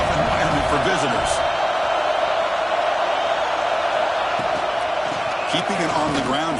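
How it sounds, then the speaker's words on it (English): A packed stadium crowd at a Penn State versus USC college football game makes a dense, continuous roar with scattered whoops and shouts. Faint voices are mixed into the steady wall of noise throughout. "Listen to the crowd energy here in the early going."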